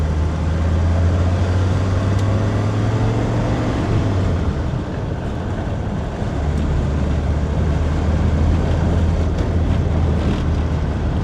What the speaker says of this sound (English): give it a bit of stick and then hear that infamous, gorgeous song sung by the 5-cylinder 3-liter diesel.